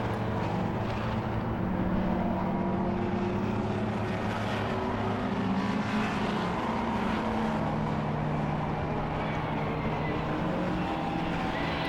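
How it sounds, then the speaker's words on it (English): Pre-'83 touring cars race at Silverstone, several engines droning and overlapping with shifting pitches as they pass, a sustained mechanical roar at moderate distance. "Here's the pre-83 touring cars. Pick them up as they come towards Beckett's this time."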